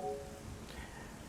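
Steady rain falling across the rainy Construct map in Garry's Mod, a continuous soft hiss of droplets at an even level with no voices.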